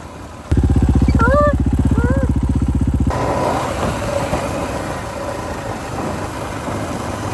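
A motorcycle engine drones with a rapid pulsing note and brief whining tones, then gives way to loud rushing wind and road noise as the bike rides fast.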